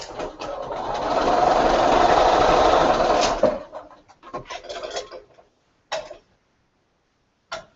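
A sewing machine stitches a plain piece of fabric in a steady whirring run of about three seconds, followed by a few short bursts and isolated clicks.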